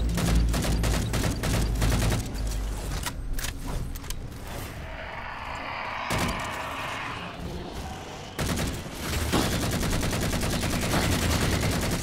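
Battle rifle fire in a Halo 4 Forerunner mission, close rapid bursts of shots in quick rhythmic volleys, a lull in the middle, then dense firing resumes near the end.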